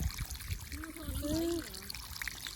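Water trickles from a pipe into a pond at a low steady level, a soft dribbling stream mixed with faint outdoor background.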